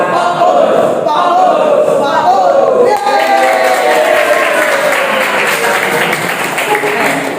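A group claps together steadily and loudly for several seconds in a classroom, with voices calling out over the clapping in a busy room.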